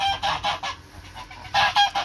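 A small group of three farmyard geese honk loudly and close by in uneven bursts of nasal calls, several overlapping, with brief pauses between.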